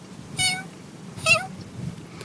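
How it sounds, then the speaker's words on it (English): Young kittens crawling about in a basket give two short, squeaky, high mews about a second apart, clear and close against a quiet background. "the kittens began to crawl about the basket and make funny little squeaky mewy noises"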